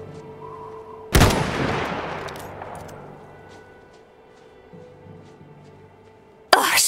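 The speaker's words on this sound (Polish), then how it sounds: "Dobra kryjówka, ale to był bardzo kiepski strzał." A rifle in the strategy game Iron Harvest fires one sharp, loud shot whose echo trails off slowly over several seconds. A second blast begins right at the end, over a quiet outdoor background.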